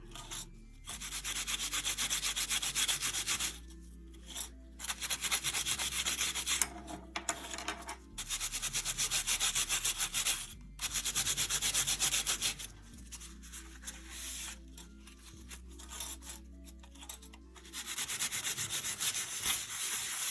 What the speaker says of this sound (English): what I'm going to attempt to do now with this old kitchen sponge is burnish off the India ink from the raised areas